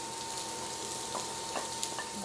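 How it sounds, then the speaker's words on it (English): Diced and minced vegetables sauté in a pan, a steady close sizzle and crackle with a few brief scrapes and stirring sounds on top. "I'm going to get these vegetables spread out here and let them start sauteing a little bit"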